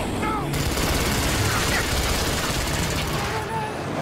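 Continuous loud gunfire in Rise of the Tomb Raider, with dense rapid automatic shots in a steady barrage that drops away near the end.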